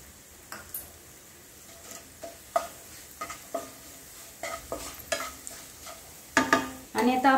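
Garlic, red chillies and spices frying in tempering oil for a traditional methi besan zunka: a soft sizzle under regular stirring taps and scrapes against the pan, close, with a louder crackle toward the end.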